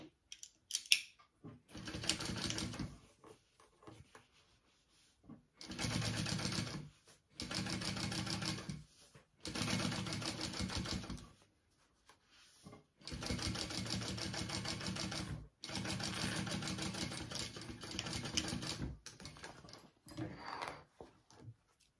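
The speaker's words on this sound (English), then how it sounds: "we're going to top stitch along the bottom panel" A sewing machine top stitches a bag panel in several separate bursts of rapid stitching, each lasting a second or two, with short pauses between them.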